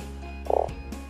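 A single frog croak sounds once, a short, close, rippling call over a steady low background hum.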